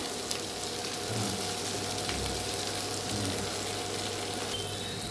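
Pomfret fish fries on a flat tawa with a steady, close sizzle and crackle, plus a few faint clinks in the background.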